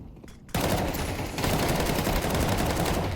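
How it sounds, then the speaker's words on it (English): Counter-Strike 2 match gunfire at a PGL Astana qualifier: after a quieter lead-in, a sudden loud burst of rapid shots erupts and keeps going as a dense, continuous volley. "Got a kill with the Tech 9, but the trade running through the smoke from Moon"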